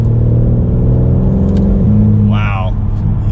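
A 2021 BMW M4 Competition Coupe engine hums and pulls steadily at low revs, a smooth, close drone with a brief higher whir near the end.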